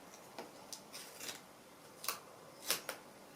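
Scissors cut through leftover fabric to make pom-pom tassels, giving a series of crisp, close snips in an irregular rhythm, roughly seven cuts with short pauses between, and no talking.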